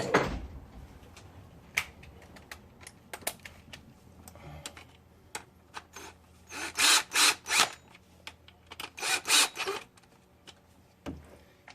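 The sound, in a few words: power drill driving in timing chain bolts, Cadillac CTS 2.8L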